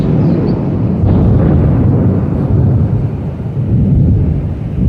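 Loud deep rumble of thunder rolling continuously for several seconds, heavy low-end boom without any speech over it.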